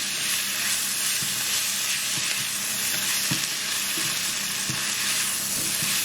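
Chicken wings tossed with crushed chili flakes fry in a hot pan, a dense continuous sizzle with soft scraping knocks from steady stirring, close and loud, no voices.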